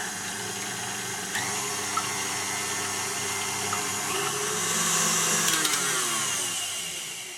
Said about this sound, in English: we're going to now whisk this slow at first and then high till the egg whites turn nice and frothy.